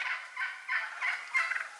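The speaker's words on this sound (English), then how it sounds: "behind me, there's a flock of turkeys." A flock of turkeys gobbles in a rapid, warbling chorus, the calls overlapping continuously at a moderate distance.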